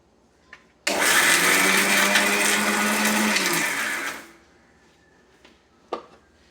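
A mixer grinder jar powders arrowroot, a loud steady whirring roar lasting about three seconds before winding down, with a few faint clicks and knocks around it and no speech.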